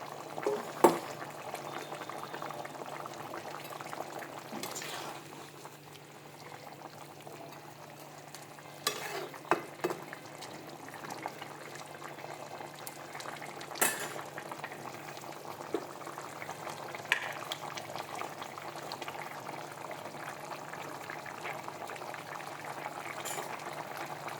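Fish cooking in a simmering pan, a soft continuous bubbling and sizzle with occasional clinks and scrapes of stirring, fairly quiet throughout.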